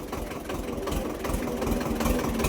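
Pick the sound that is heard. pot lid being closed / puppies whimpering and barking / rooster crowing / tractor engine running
tractor engine running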